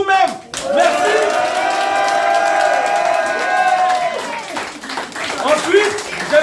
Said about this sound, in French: Un tonnerre d'applaudissements pour vous-même.